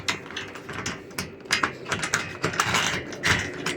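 Solar PV panel mounting part being pressed into place on a metal roof, with a series of close, light plastic-and-metal clicks and rattles in uneven bursts.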